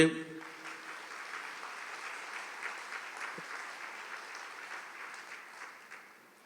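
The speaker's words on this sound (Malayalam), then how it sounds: "ഒന്ന് കൈ ഉയർത്തി കൈയടിച്ചേ." An audience claps together in a sustained, even round of applause that fades slightly toward the end.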